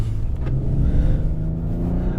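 A Chrysler 300C engine revs loudly and close by, a deep throaty roar that rises and swells over a couple of seconds.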